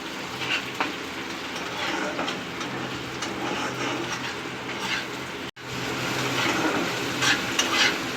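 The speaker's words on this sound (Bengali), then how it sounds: "আমার পেঁয়াজ টমেটো সব কিন্তু খুব ভালোভাবে ভাজা হয়ে গেছে" Onion and tomato stir-fried in a pan for hilsa fish bharta, a loud continuous sizzle with stirring scrapes that cuts out for a moment midway, then picks back up.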